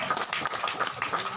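Dense, steady clapping from a gathering honoring Abah Atim at a religious talk, a continuous crackle of many hands without a clear beat, moderately loud throughout.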